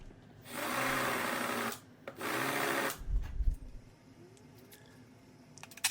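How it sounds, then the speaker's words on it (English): Two bursts of drilling into a hickory dining table, each roughly a second long with a short pause between, boring holes for threaded inserts, followed by low knocking and handling noises in a quiet workshop. "we're going to drill some more holes for some threaded inserts to attach the base"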